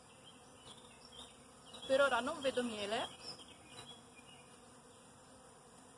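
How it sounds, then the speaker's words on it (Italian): Agitated honeybees buzz steadily around an open beehive with a honey super, a close, continuous drone under someone speaking briefly. "Le api sono molto agitate oggi perché finalmente riescono a fare voli di bottinamento"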